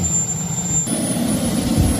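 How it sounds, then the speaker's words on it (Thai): KingTech K320 turbine jet engine, about 32 kg of thrust, fitted in a 1:4 scale RC F-16 model at a small airfield, giving a steady loud whine and rumble that shifts in tone partway through. "เป็นเครื่องเจ็ตคิงเทครุ่น K320 หรือให้แรงขับประมาณ 32กิโลกรัมนะครับ"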